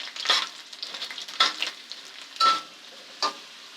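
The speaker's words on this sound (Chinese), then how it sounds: "接下来我们要把蒜片爆得香香酥酥的" Garlic slices frying in hot oil in a wok, crisping up with soft sizzling and several short, sharp crackling bursts spaced unevenly, close and alone with no talk.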